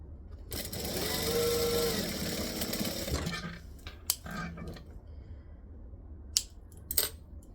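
A home sewing machine runs a fast continuous stitch for a few seconds, then stops, followed by brief backstitch bursts and light handling clicks, close and fairly quiet, no talking.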